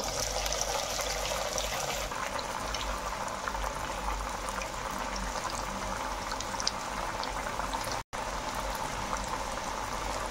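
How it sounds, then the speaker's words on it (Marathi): Batti dough balls frying in hot oil in a kadhai, a dense, steady bubbling sizzle that holds evenly throughout at moderate loudness, with only a momentary break near the end. "त्याच्यामध्ये आपण आपले बट्ट्या तळण्यासाठी टाकून घेणार आहोत."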